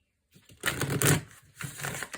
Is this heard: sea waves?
no